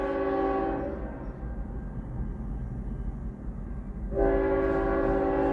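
A train horn blows a long, loud, steady chord, fades into low rumbling rail noise, then sounds again strongly near the end.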